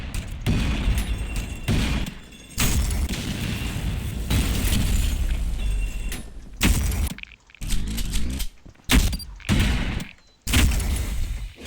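A boss fight in the video game Ultrakill is loud with charged gunshots, booming blasts and explosive impacts. Heavy bursts come in rapid succession with brief gaps and sharp cutoffs in between.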